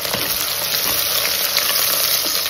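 Whole spices fry in hot vegetable oil for mutton tahari, making a steady, close, dense sizzle and crackle that never lets up.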